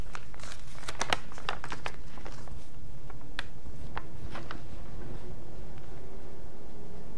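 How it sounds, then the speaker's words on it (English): Sheets of paper crinkle and rustle as they are folded in half again and again, a steady close-up run of crisp creasing and handling noises with no talking. "To make 8 equal parts, fold the paper in half 3 times."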